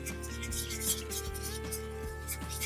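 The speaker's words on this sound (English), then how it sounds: "Whisk it together." A whisk scrapes steadily around a pan as milk is blended into a sauce for cheesy scalloped potatoes with Gruyère, a close, continuous rubbing rasp with faint periodic knocks and no talking.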